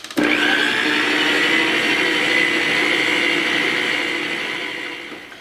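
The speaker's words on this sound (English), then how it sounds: "Down goes the mixer, and I'm going to turn it on just until it starts to form a ball" A stand mixer with a paddle attachment whirs steadily through bacon scone dough, starting abruptly and holding an even, loud motor hum that eases slightly toward the end.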